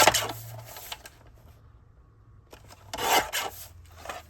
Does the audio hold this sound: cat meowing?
no